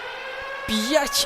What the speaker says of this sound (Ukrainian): Все, давай, оп, сирена.